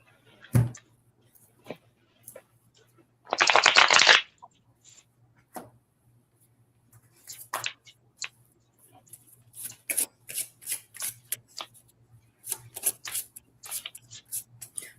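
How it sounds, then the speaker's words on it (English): A deck of playing cards riffle-shuffled in one quick, crisp burst, followed by scattered soft clicks and taps of the cards being squared and handled in a quiet room. "I love the sound of cards shuffling."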